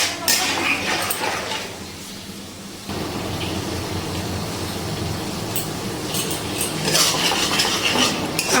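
Ginger and tomato stir-fry in a pan over a low gas flame for a restaurant-style chhanar dalna. A spatula scrapes and clinks against the metal pan in irregular strokes, close and fairly loud.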